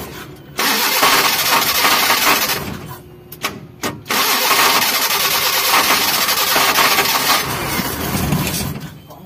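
Mitsubishi Colt SS engine cranking and catching, then roaring loudly at high revs, dropping briefly to a sputtering near-stall around the middle before revving hard again and holding a loud, rough, sustained blare to the end.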